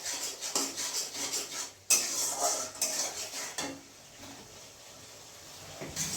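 Prawns being sautéed with turmeric and salt in a pan, a metal utensil scraping and stirring in steady strokes, with clinks and rasping rubs. It is fairly close and there is no talk.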